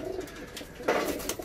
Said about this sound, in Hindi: ये है वो रेयर कलर के कबूतर, भंवरे और हरे पंजाबी कबूतर